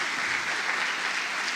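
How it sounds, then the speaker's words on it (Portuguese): At a special anniversary church service, the congregation gives its volunteers a round of applause. The clapping is steady, full and fairly distant, filling the space without a break and with no voice above it. "Uma salva de palmas ao Senhor pela vida de todos os voluntários aqui."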